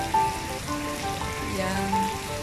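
Rain falls at National Stadium in Singapore, a steady hiss with faint tones ringing softly in the background, brief and even throughout.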